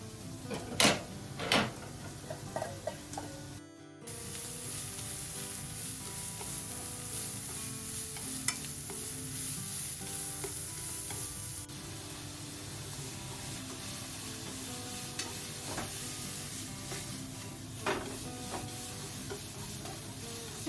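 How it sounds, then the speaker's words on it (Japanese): Julienned carrots stir-fry in a pan for a carrot sauce dish, with a few knocks and clatters early on, then a long, even sizzle broken by occasional stirring scrapes, close and without talking. "それが少ししんなりするまで炒めます。"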